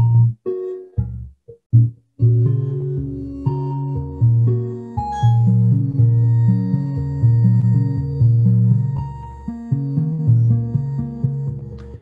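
Synthesized musical tones sonifying a DNA sequence step through a slow melodic sequence of sustained notes at varying pitches, clean and alone with no voices.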